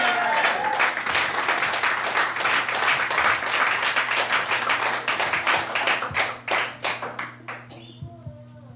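A church congregation claps in steady applause throughout, dense and energetic, tapering off toward the end, with a preacher's voice faintly present.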